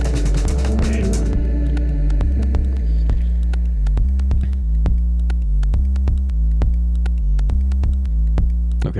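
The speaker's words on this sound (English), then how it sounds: "we're just going hard with the synth bass" Deep electronic synth bass pulses in a steady, repeating rhythm, loud and close throughout, with sharp percussive ticks above it and a brief denser burst of sound at the start.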